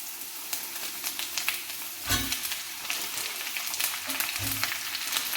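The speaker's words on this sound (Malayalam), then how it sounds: "ജീരകം ഗ്രാമ്പു അത് മൂത്തതിന് ശേഷം ഉള്ളി സവാള ഇടാം" Cumin, cinnamon, cloves and onions fry in hot oil for a Kerala-style chicken curry, a crackling sizzle with a couple of louder dull thumps and stirring clatters, heard up close and free of voices.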